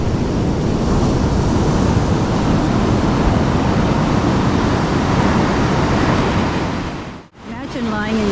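Ocean waves pounding on a sandy beach at night, a steady loud roar of surf filling the clip without pause, ending in a sudden brief dropout and a short whooshing sound.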